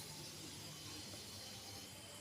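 Whole garam masala, cardamom and split dry chillies crackling in hot oil in a kadai, a steady close frying hiss with no talk.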